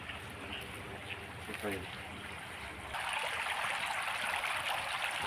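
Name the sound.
groundwater pumped up and poured into tank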